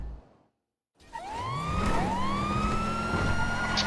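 A police car siren starts after a brief silence, its wailing tone rising and sweeping loudly and close, with vehicle engine noise underneath.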